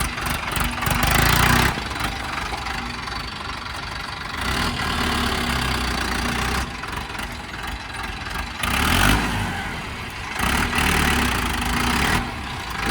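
An Arjun 605 tractor in clean condition idles nearby with a steady low diesel throb, its engine note swelling louder in several brief surges as it is moved inside at evening.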